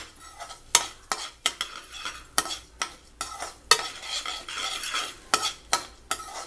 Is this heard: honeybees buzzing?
no